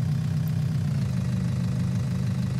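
An old green tractor engine runs at a steady idle in a farming video game, a continuous low, slightly knocking rumble with no voices over it.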